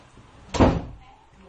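A single heavy door slam lands near the mic as one sharp thud that decays within a few tenths of a second, over a faint low background.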